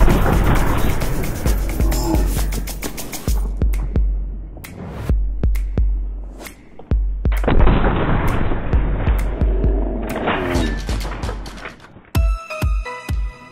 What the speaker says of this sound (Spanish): Y como último nos brincamos a la escopeta de cañón doble.